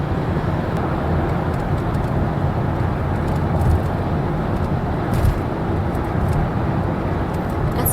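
Steady road and engine rumble from inside a car driving on a road in Chicago, constant and fairly loud, with no talking.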